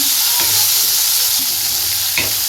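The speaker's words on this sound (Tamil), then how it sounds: "நான் ரெண்டு தக்காளியை இந்த மாதிரி வெட்டி வச்சுருக்கேன் இதை இதில் சேர்த்துடலாம் ஸ்டவ்வை நல்லா சிம்லேயே வச்சுப்போம் நல்லா வதக்கி விட்டுக்கலாம்" Cut tomatoes sizzle in a pan on a low flame for Chettinad crab gravy, a close, steady frying hiss broken by a few stirring scrapes, with no talk.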